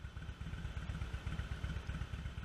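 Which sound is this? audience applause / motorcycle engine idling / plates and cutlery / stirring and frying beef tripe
motorcycle engine idling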